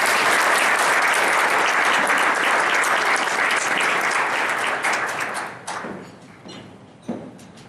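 A luncheon crowd applauds loudly for several seconds, then the clapping thins out and fades into a few scattered claps.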